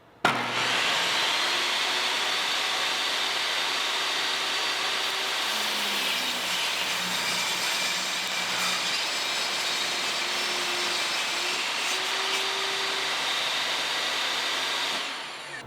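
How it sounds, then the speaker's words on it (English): Vevor table saw with a 15-amp motor and 10-inch blade ripping a 2x4 at a 2-inch fence setting, a loud steady whine and cutting roar held evenly for about fifteen seconds before winding down, with no talking. "we're going to rip a 2x4 and see what happens"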